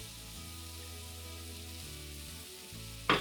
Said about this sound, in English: Into our pan go our onions and carrots, as well as our peppers.